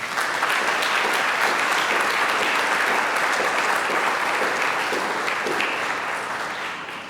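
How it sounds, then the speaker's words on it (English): A full in-person audience gives a warm round of applause for a project team at the Carbon to Value Initiative Year 3 kickoff, dense continuous clapping at close range, loud and steady before tapering slightly at the end. "round of applause."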